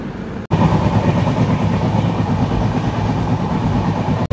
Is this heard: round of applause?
no